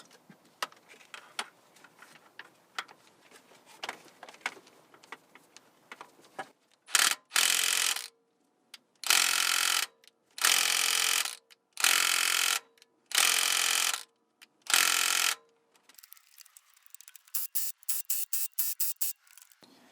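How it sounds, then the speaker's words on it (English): An impact wrench hammers exhaust manifold bolts on a Cummins 5.9 12-valve diesel in six loud, close bursts of about a second each, with quieter ratcheting clicks before and faster tapping after, and no talking. "now I'm going to hit all the bolts with the impact"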